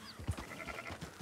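Sheep bleating in Red Dead Redemption 2 as a herder drives a flock along, a few faint, short bleats mixed with soft ambient game sounds.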